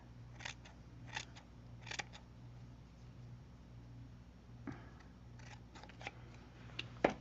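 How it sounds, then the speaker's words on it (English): Scissors snip through a piece of card-making ribbon in several crisp, quiet cuts spaced apart, each a short sharp snap over a faint steady background hum. "I'm going to take that ribbon and cut it in half again"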